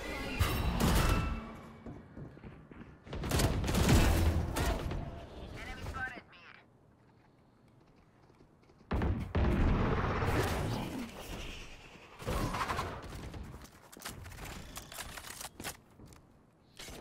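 Video game gunfire rings out in loud, dense bursts separated by quieter gaps, with a player's voice talking over parts of the action.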